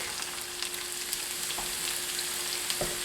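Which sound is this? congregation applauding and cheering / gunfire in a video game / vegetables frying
vegetables frying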